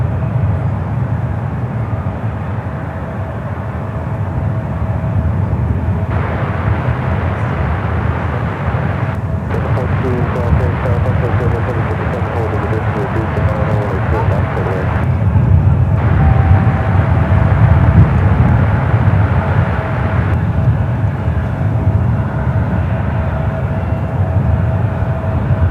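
Jet airliners taxi along Taxiway Lima at San Francisco International Airport, and a steady low engine rumble carries throughout. A brighter turbine whine rises and fades as aircraft pass, with occasional clicks over the drone and no talk.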